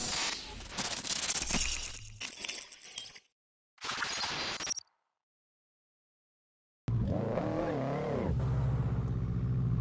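A street-tuned turbo Subaru BRZ drift car sounds in short bursts: loud engine revving and clattering mechanical noise, broken by silent gaps, then a sustained, near engine roar that rises and falls.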